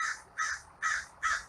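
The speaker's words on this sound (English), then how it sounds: "That bird is really loud." A crow caws loudly and close by, four harsh evenly spaced calls in quick succession, with no voices.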